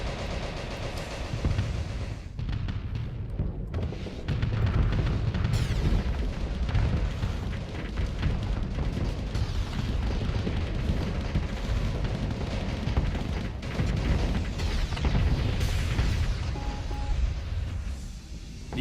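Torpedo explosions in the space combat game Starsector, a dense run of deep booms and rumbling blasts layered over steady battle noise, loud and continuous throughout.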